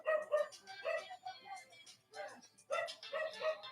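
A dog barks in short repeated bursts, some yelping, close by and mixed in with people talking over it.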